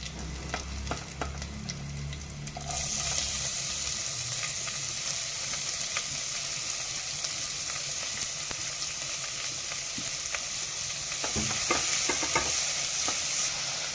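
Onion, garlic, curry leaves and green chilli fry in hot oil for a Manathakkali keerai poriyal, a continuous close sizzle with frequent scraping stirs and spatula clicks throughout.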